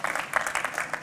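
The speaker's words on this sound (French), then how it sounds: "applaudissements, bien sûr" Applause from the audience at a trophy ceremony for a hygienic design award at a food industry trade show, brisk dense clapping with small bursts across a brief stretch.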